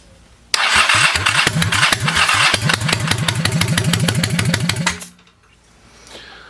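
A chopper motorcycle engine primed with starting fluid cranks and fires in fast, loud rhythmic pulses for about four and a half seconds, then cuts out abruptly into near silence.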